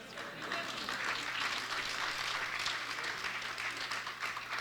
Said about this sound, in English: You're clapping because we should walk around thinking that, but we don't.